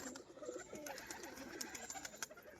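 A female tumbler pigeon coos in soft, repeated low warbles close by, against a light background hiss.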